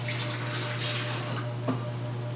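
Water poured steadily from a pitcher into a plastic wine glass, a soft continuous trickling pour close by with a low hum underneath.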